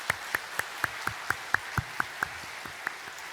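A church congregation at a Sunday service gives a slow, evenly spaced run of about a dozen distinct claps, fairly faint with little voice.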